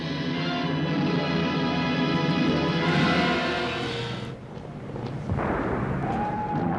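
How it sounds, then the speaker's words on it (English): A dense, roaring rumble of bombs exploding on London streets and homes, crackling blasts loud and sustained, dropping briefly before another burst and a high whistling tone near the end. "You can hear the bombs falling on the streets and the homes."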